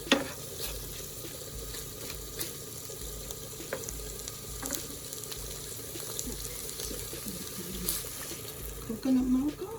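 Thai curry cooks in a pan with a faint, steady sizzle and occasional stirring clicks and scrapes. Soft background noise runs underneath.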